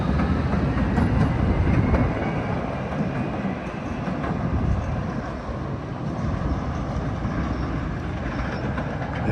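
A Chicago CTA Red Line train at Armitage station rumbles past steadily and loudly with a continuous broadband roar and faint wheel clatter, no voices.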